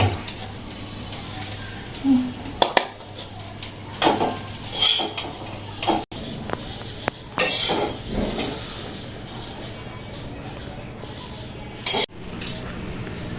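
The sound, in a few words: cooking noodles in a pan, utensils clinking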